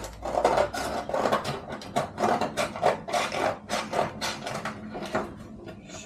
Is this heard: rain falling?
no